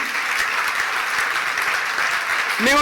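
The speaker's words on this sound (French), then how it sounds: "Et je vous demande de les applaudir." Audience applause at a Paris municipal campaign launch rally fills the room, steady and dense, with a voice starting to speak over it at the very end.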